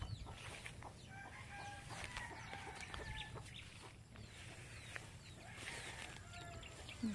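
Chickens cluck and squawk on a farm after feeding, several birds calling at close to middle distance, quietly and continuously, with intermittent louder calls over a soft background.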